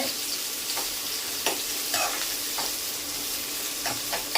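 Onions sauté in a pan for a Tamil-style cauliflower gravy with a steady bright sizzle. A spoon scrapes and stirs at intervals, and no one speaks.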